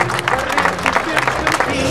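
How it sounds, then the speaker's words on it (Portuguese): Festival crowd in Alcochete applauding an elderly salt worker, dense clapping with a voice talking over it, close and lively. "Para já e desde já, uma salva de palmas"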